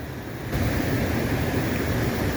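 Rapids of the Housatonic River rushing over eroded marble make a steady, broad roar of white water that swells after a moment and stays loud and unbroken, with no voices.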